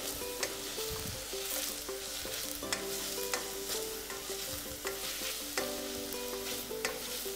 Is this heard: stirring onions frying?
yes